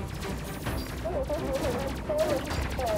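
Bursts of rapid gunfire rattle across a ship in the space video game Space Crew, with a dense fusillade and crashes building in waves, mixed with game sounds and some background talk.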